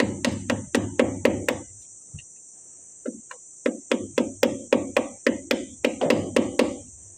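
A hammer strikes a screwdriver against the locking tab on an FJ45 axle, giving sharp metallic taps in quick bursts: a rapid run of about seven hits, a pause with a couple of stray knocks, then two more steady runs, close and clear.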